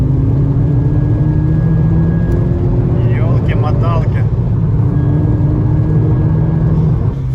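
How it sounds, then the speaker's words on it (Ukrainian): VW Golf GTI engine pulls through the gears from inside the cabin, its drone rising in pitch, dropping at a shift, then climbing again, with someone speaking briefly over it. "На першій нема смислу газувати включаємо другу. На другій теж небагато смисла. На третю."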